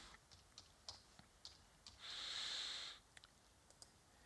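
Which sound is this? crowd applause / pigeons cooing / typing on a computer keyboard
typing on a computer keyboard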